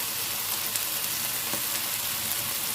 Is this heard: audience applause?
no